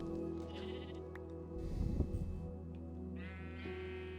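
Many sheep packed into one hole in a video game bleat repeatedly, overlapping calls rising and falling over a steady low background hum.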